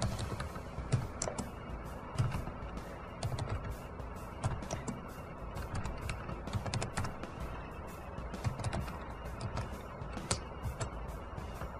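Rapid typing on a computer keyboard while data is entered into a spreadsheet form, close and steady clicking with irregular bursts of keystrokes and no speech.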